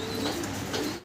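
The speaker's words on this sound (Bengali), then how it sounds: "লং ফেস কবুতর দেখাচ্ছি" A red long-face pigeon coos softly and continuously up close, a low rolling murmur that lasts about a second before cutting off.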